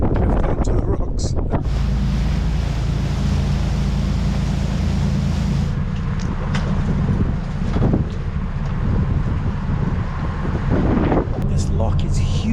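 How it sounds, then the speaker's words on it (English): Strong wind of about 20 knots buffeting a microphone aboard a small boat in a huge lock on the Rhône, loud continuous roaring gusts close up that fill the whole clip. "the wind is blowing quite strongly"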